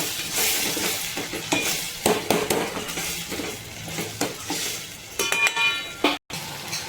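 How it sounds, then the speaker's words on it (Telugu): Ginger garlic paste is stirred and fried in a pan, a bright sizzle under repeated scraping strokes and metallic spatula clinks, close and steady with a brief break near the end. "కొంచెం అల్లం వెల్లిగడ్డ పేస్ట్ ఒకసారి తిప్పుకుందామండి"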